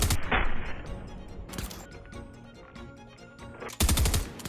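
Combat SMG gunfire in a Fortnite-style shooter, a loud opening burst, a rapid string of quieter clicking shots with a weapon swap in between, then another heavy burst near the end.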